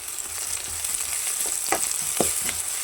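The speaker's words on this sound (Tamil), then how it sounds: "இப்போ இஞ்சி பூண்டு பேஸ்ட் போட்டுக்கலாம். நல்லா மிக்ஸ் பண்ணி விட்டுக்கலாம்." Ginger garlic paste sizzles with softened onions in a pan while being stirred for a prawn thokku, a steady soft hiss broken by a few scraping stir strokes, close and fairly quiet.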